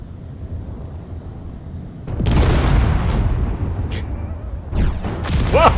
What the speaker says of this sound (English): Explosions, that's what's going on.